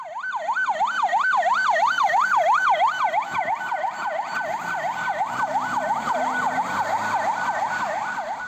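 A medical minibus escorted by three traffic police patrol cars races along with sirens wailing, a fast rising and falling yelp that stays loud and continuous throughout, with a truck engine rumbling underneath and no speech.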